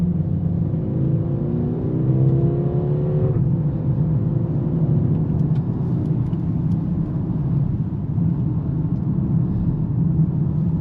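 A 2025 Mercedes-AMG GLB 35 SUV pulls away with a rising engine note that climbs through a gear, then settles into a steady low rumble and road noise from inside the cabin.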